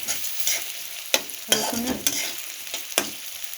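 Garlic frying in a pan, with a bright steady sizzle broken by sharp scrapes and clatters of stirring at irregular intervals, close and alone with no voices.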